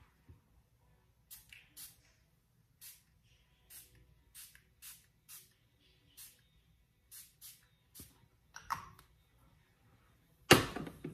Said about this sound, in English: I'm gonna spray my face with the Farsali.